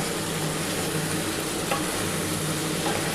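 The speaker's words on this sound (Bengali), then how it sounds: "এই কাঁচা লঙ্কাটা দিয়েও ভালোভাবে একটুখানি কষাতে হবে।" Chicken marinated in vinegar stir-fried in a pan with slit green chillies, giving a steady, close sizzle with faint stirring scrapes running throughout, no voices.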